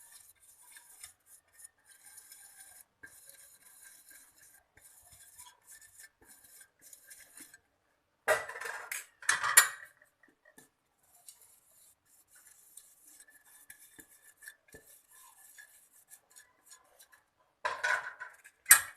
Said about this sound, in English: Now I'm going to grease all my idli stands with little oil.